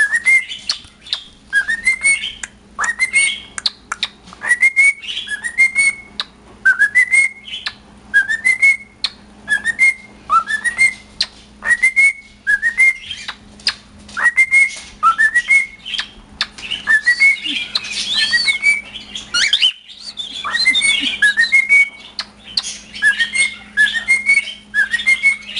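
A male cockatiel sings at its own mirror reflection indoors, repeating short rising whistled phrases over and over with brief gaps, loud and close, broken up by chirps and scratchy chatter.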